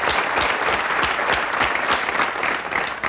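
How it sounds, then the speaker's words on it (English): An audience on a 1989 TV pilot taping claps steadily, a dense, close round of applause lasting the whole clip with faint crowd murmur. "You will do a special round of applause."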